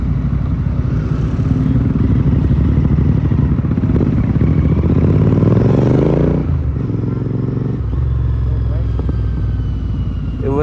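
A Triumph Scrambler 400 rides ahead at night alongside a GT 650 and a Himalayan, with a steady, loud engine drone and wind rush that shifts pitch as the bikes accelerate and change gear; a voice talks over it.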